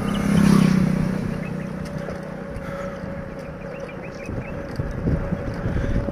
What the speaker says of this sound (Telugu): ఇంకొక బైక్ వచ్చిందబ్బా.